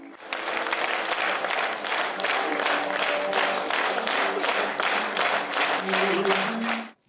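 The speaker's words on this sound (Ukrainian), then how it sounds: "По завершенню двогодинного кіносеансу овації в глядацькій залі не стихали зо 10 хвилин" Sustained audience applause and ovation in a cinema hall after a two-hour screening of the historical drama Povodyr, dense steady clapping from a large crowd lasting throughout before cutting off abruptly.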